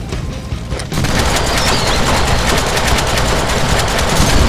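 A huge gun in the Deadpool video game fires a loud, continuous rapid burst that starts about a second in and runs unbroken to the end.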